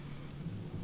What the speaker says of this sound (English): This rain's like acid.